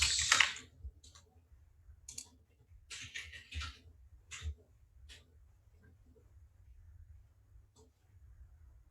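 Computer mouse clicks on trading charts, a handful of crisp, scattered clicks at close range, with quiet breathy voice sounds and a low background hum.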